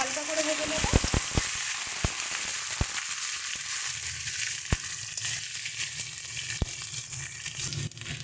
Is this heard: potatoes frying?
yes